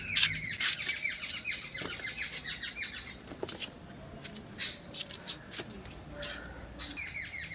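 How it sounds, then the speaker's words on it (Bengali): Several birds squawk and chirp in an outdoor garden with paper flower bushes, the sharp, busy calls clustering near and fairly loud before thinning out, then returning, with light rustling beneath. "কি সুন্দর সব পাখির আওয়াজ।"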